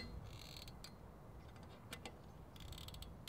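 Bolts on a bicycle bottle cage on a Tout Terrain Outback Xplore are tightened with a tool, giving faint ratcheting clicks and creaks in short bursts over steady background noise.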